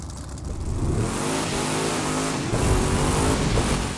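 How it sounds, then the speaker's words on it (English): A car in The Crew 2 revs hard as its tires spin, a loud continuous engine roar climbing and holding with broadband tire noise, alone and without talk. "My tires just spun even though I had to hit, and then I lost control."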